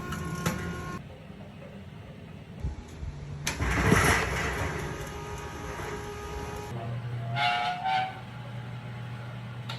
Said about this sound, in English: we remove the lid and use the winch system to put the basket inside